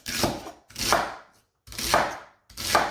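Celery being chopped with a slightly bent-bladed Tupperware Chef Series Pro knife for chicken soup: four separate crisp chopping bursts with short pauses between them, close up and with no talking.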